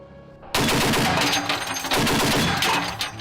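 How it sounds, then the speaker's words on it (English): An M2 Browning heavy machine gun on an AI-aimed turret opens fire suddenly after a quiet moment, pounding out loud, dense sustained bursts with a brief dip between them. "Then when everything is calculated, I will see a sign indicating that the fire is authorized, and then it starts shooting."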